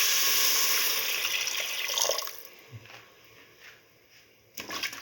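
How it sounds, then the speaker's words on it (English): Water is poured into a lentil tomato stew with turmeric in a pressure cooker, a steady rushing splash for a couple of seconds that thins into trickles, then a brief burst of stirring or sloshing. "pour in 200 ml of water"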